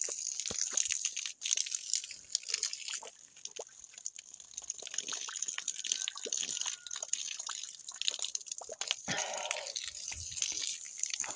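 Water runs steadily to waste from an outdoor tap, a constant close splashing hiss with scattered drips that carries on unbroken throughout.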